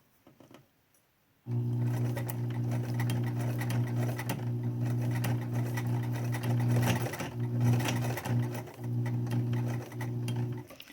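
Sewing machine stitching fabric face masks starts abruptly after a quiet moment and runs steadily at close range, a constant whirring hum with a few brief shifts in speed.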